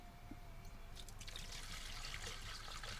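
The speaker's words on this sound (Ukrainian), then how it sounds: "І заливаємо водою." Water pours into a cauldron holding meat ribs for an outdoor borscht, a steady trickling splash that swells into a fuller, continuous pour partway through, close by with no talking.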